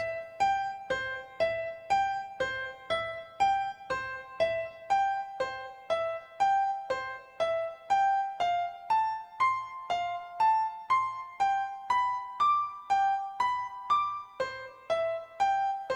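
A Yamaha keyboard plays a CFG piano voice in a steady, repeating accompaniment pattern of evenly spaced chord stabs over a low bass pulse, with the melody line rising toward the end.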